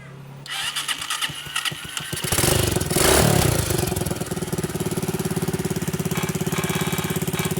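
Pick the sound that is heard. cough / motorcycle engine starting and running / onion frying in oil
motorcycle engine starting and running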